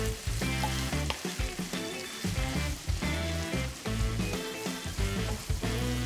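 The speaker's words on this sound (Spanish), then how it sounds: "Continuamos con la cebolla hasta que comience a transparentarse para que se integre muy bien." Chopped onion sautéing in a hot pan while being cooked down for a bean stew with carne asada, a steady close sizzle and crackle with occasional stirring and no talking.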